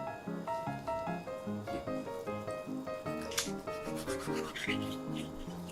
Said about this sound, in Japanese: これで刺身を切っていきましょうね